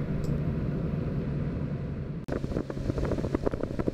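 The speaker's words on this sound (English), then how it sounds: "As we motored down the lake to the spot we wanted to fish" A fishing boat motoring down a calm lake while trolling for crappie, a steady low engine drone with wind rushing over the microphone, then a brief dip and a knockier rumble as the motor continues.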